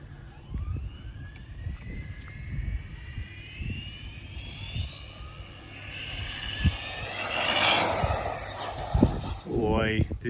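A brushless 4WD 1/10 Select Four 10SC RC short course truck whines at high pitch as it speeds past, with motor pitch rising and falling over steady outdoor noise, and a louder pass near the end.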